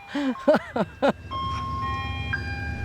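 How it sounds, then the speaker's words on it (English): Ice cream truck in a hometown subdivision, first a short jingle of four bright melodic notes, then steady electronic tones over a low engine rumble. "Ice cream truck."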